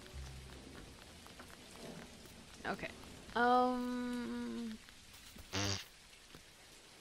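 Steady rain falls in the Dinkum video game, a soft constant patter that runs under the whole stretch, with a brief spoken word and a few short game sounds and tones standing out above it.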